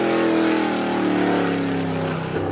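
Race car number 11 driven by Steve Dupley on the Star Speedway track during super time trials, a loud, sustained engine roar with a slowly falling pitch as it runs past.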